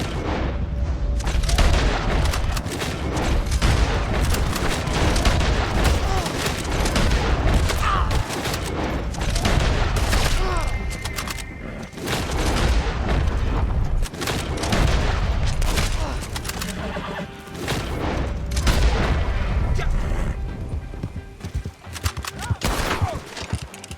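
A dense, nonstop battle in Red Dead Redemption 2 fills the scene with loud gunfire, overlapping rifle shots, booms and clatter. Bolt-action rifle fire is mixed in among heavy background combat.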